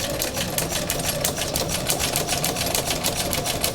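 A sewing machine stitches around the edge of a sheet of Yupo synthetic paper, its needle chattering in a steady rapid rhythm, close and continuous with no talking.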